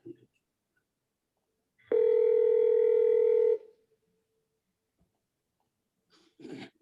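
A telephone emits one loud steady tone lasting about a second and a half, standing alone between quiet gaps, with brief faint noises before and after.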